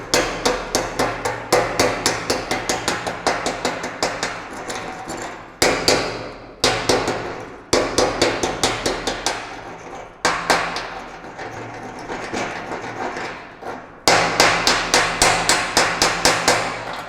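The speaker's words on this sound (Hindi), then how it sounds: "ये स्लैग रिमूव करने के लिए ये स्पेशल चिपिंग हैमर यूज़ कर सकते हैं" Chipping hammer knocking slag off an arc-welded butt joint, rapid bursts of sharp metallic taps in quick rhythmic runs, close and loud, broken by short pauses between volleys.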